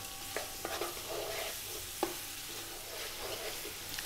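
Base vegetables for a homemade fish stock sizzle and get stirred in a pot over high heat, a soft steady crackle with occasional scrapes and clinks of the spoon, fairly quiet and without voices.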